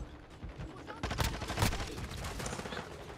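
Rapid bursts of automatic gunfire from a weapon in Call of Duty: Modern Warfare II, a quick volley of sharp cracks with a couple of louder shots, fairly quiet overall.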